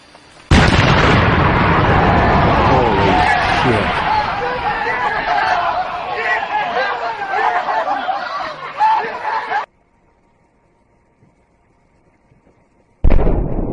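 Old junk blown up in a big outdoor explosion, a loud boom followed by a long roaring, crackling rumble of debris that dies into silence, then another loud burst starts abruptly at the end.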